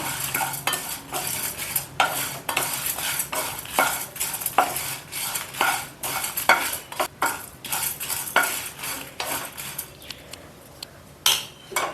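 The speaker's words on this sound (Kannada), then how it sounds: "ಬ್ಯಾಡಗಿ ಮತ್ತು ಗುಂಟೂರು ಮೆಣಸಿನ್ಕಾಯಿ ಇದನ್ನು ಸೇರಿಸಿ ಹುರ್ಕೊಳ್ಳೋಣ" A metal spoon scrapes and stirs Byadagi and Guntur red chillies roasting in a pan, brisk repeated clinks and scrapes over a faint sizzle, close and busy throughout.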